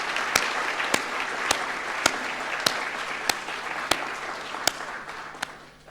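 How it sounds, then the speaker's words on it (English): Audience applause at a university inauguration ceremony, a dense wash of clapping from a crowd honoring faculty, steady and moderately loud with a few sharper claps standing out, tapering off toward the end. "let's hear a round of applause for our wonderful faculty"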